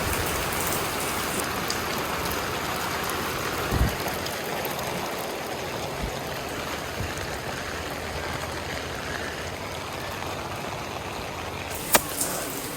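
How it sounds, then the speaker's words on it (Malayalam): Heavy rain pouring down at a school, a dense steady hiss of drops on surfaces with a couple of sharp isolated knocks, continuous and close with no talking. "അത്രയും നല്ല മഴയാണ്"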